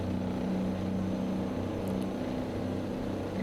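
A custom Peterbilt 389 heavy-haul truck engine in American Truck Simulator pulls under load, a steady, fairly quiet low drone with a constant humming tone and no talk.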